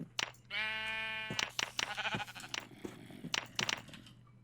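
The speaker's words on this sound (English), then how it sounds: "Hey, there's a sheep." A sheep in modded Minecraft bleats once, clear and near, followed by a scatter of crunchy clicks and small game noises.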